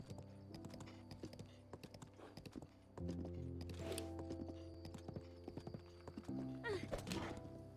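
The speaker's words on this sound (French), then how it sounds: "C'est pour ça que je me balade en cheval." A horse's hooves clip-clop in a steady, quick rhythm while riding in a modded Zelda video game, with game music tones underneath and a brief neigh-like burst near the end.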